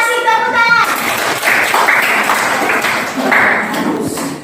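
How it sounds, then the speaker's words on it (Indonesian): Applause in a junior high school classroom in South Nias, Indonesia: hands clap in a brief, steady round from a small group nearby, mixed with voices. "Ya, terima kasih tepuk tangan."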